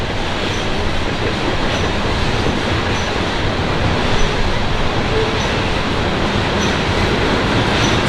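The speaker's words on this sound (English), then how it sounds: "Do y'all not like the train passing by? Is it too noisy and loud?" A train rumbles past nearby a cemetery in West Point, Kentucky, a loud continuous roar of rolling wheels and rail noise with faint rhythmic clicks.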